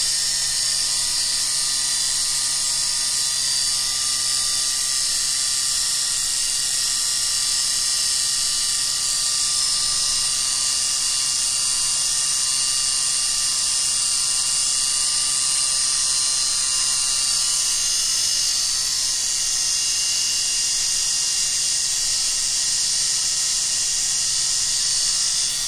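An electric motor in an IoT monitoring setup runs at high speed, giving a loud, steady high-pitched whine with a constant tone that holds unbroken throughout, with no voices.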